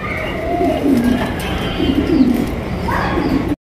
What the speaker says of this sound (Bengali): এটা হচ্ছে ক্রিম বার এক্সিবিশন কবুতর